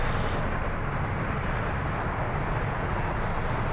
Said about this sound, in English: So that was a plane.